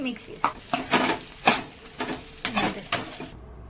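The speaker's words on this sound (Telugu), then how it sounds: "ధనియా పౌడర్ 1 స్పూన్, మసాలాని దీంట్లో వేసి మొత్తం మిక్స్ చేసుకోవాలి." Crispy corn being stirred and mixed with salt, coriander powder and masala in a pan, giving a series of short scraping, rattling strokes in an uneven rhythm, close and fairly quiet.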